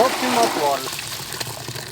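Water gushes and splashes into an Intex backyard pool set on a slope, a strong rushing flow that eases slightly as a person talks over it.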